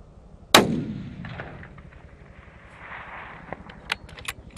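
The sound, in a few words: 300 Win Mag rifle shot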